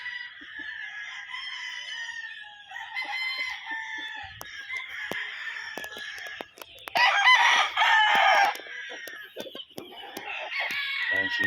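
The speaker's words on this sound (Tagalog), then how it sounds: "Healthy yung manok." Gull Butcher rooster of Mt. Banahaw bloodline, a healthy six-month-old cockerel, crows loudly and near, with a bright drawn-out call standing out over ongoing clucking and other fowl chatter.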